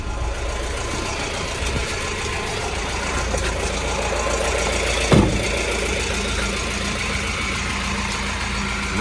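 A Mahindra Furio truck engine idles at a Lulu warehouse in Trivandrum, a steady low rumble with even vibration and one brief knock midway, heard fairly close with no talking.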